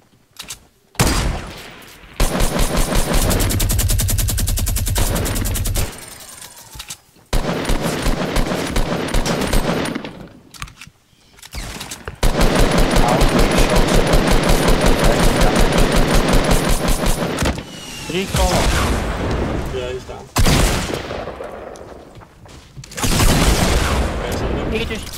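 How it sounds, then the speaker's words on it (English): Bursts of rapid automatic gunfire and heavy rocket launcher blasts in Fortnite Battle Royale, loud and close, coming in several long volleys separated by brief pauses. "Did he just try rocket at me? Yeah. I think it was rocket."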